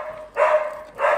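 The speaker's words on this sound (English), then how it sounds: "Feel free to go tame your dog if you need to." A dog barks twice nearby, two short separate woofs over a low indoor background hum, with no talking.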